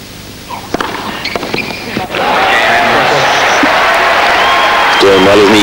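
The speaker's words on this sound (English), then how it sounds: "The Swedish camp applauding their man back to the chair." Swedish supporters applauding their player back to his chair at the 1999 Australian Open tennis final, a sustained wash of crowd clapping filling the space after a quieter start.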